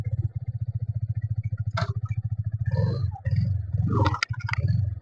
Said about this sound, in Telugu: ఒకసారి బండి కూడా మీకు స్టార్ట్ చేసి చూపెడతాను.